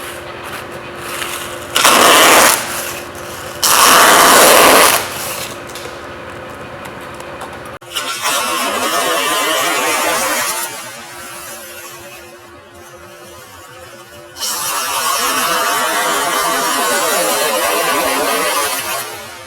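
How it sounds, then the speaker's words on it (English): A bandsaw runs with a steady motor hum in a workshop and cuts through stiff plastic packaging in several loud, harsh bursts, with a long rasping cut near the end. "use the best thing you got on hand, the bandsaw"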